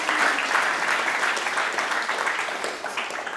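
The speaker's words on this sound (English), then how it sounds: "It deserves a round of applause." Audience applause at a live business debate event, a steady dense wash of clapping from a crowd that fills the whole stretch at even loudness, with no voices over it.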